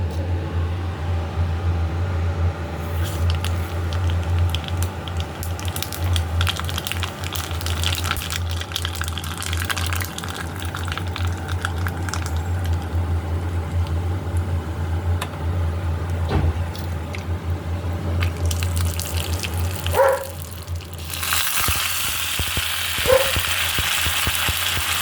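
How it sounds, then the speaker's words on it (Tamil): Mustard seeds, dried chillies and curry leaves tempering in hot oil for raw mango pachadi give a steady close sizzle and crackle, with a louder burst of spitting near the end. "கருவேப்பிலை தாளிச்சிடுங்க"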